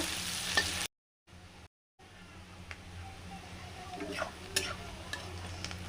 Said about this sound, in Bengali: এবার আমি পেঁয়াজটা লাল করে নেব।